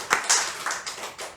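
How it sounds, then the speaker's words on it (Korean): A church congregation claps during a sermon, a few loose, uneven bursts of hand claps, close and fairly loud. "생각난 김에 박수 한번 치자 이 말이에요."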